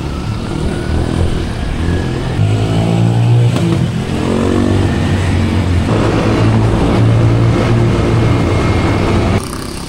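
A dirt bike engine on a first trail ride in Tanay, Rizal, running loud and close the whole time, its pitch rising and falling with the throttle.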